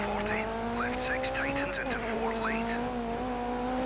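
A rally car engine in the Dirt 3 racing game drones steadily and loudly throughout, its pitch shifting as it revs, with tire noise underneath and a voice talking over it.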